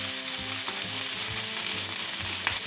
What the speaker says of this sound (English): I can flip it back and forth just to make sure that I'm happy with the sear I get on it